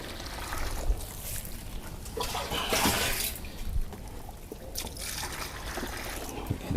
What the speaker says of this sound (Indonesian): Kita secukupnya saja airnya dulu.